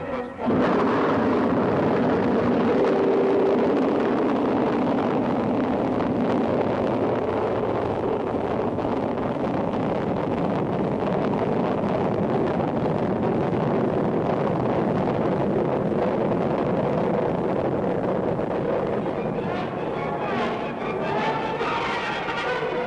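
A rocket carrying the AT&T Telstar satellite ignites and lifts off, a loud sustained roar that rumbles continuously with wind-like buffeting for over twenty seconds.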